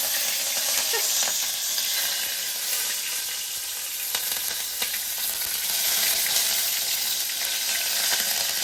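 Curry leaves hitting hot oil in a tempering of mustard seeds and asafoetida for rasam, a steady, loud broadband sizzle and crackle running throughout with occasional pops, no talking.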